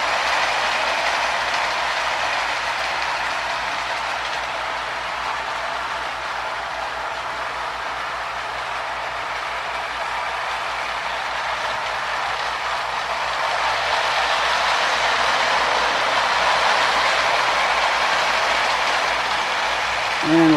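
A Marx Commodore Vanderbilt toy train with a single-reduction motor and fresh brushes runs slowly, giving a steady, close mechanical whir with faint gear ratcheting that continues unbroken for about twenty seconds, with no talking.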